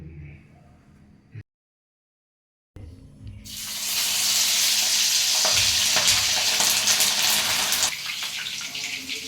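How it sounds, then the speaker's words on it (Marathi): Vada pav potato vadas frying in hot oil, a loud, steady broadband sizzle that bursts in after a short gap and holds strongly to the end, with faint speech beforehand. "आता आपण तळून घेऊ"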